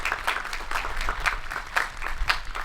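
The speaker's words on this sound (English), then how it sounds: "Now let's give them a huge round of applause" A graduation audience applauds senior basketball players with moderately loud, scattered clapping in a large space, individual claps standing out in a loose, uneven rhythm rather than a dense roar.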